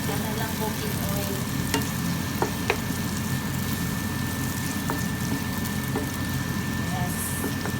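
Ginamos fish paste frying in cooking oil, a steady dense sizzle with stirring scrapes running throughout, close and fairly loud, with a constant faint tone in the background.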